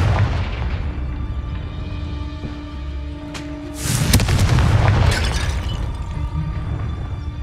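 A Confringo spell explodes in Hogwarts Legacy, a loud fiery burst with crackling debris rising over a droning game soundscape and then slowly fading.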